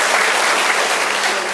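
Loud, dense applause from an audience at a teachers' award ceremony, continuous and steady throughout with no pauses.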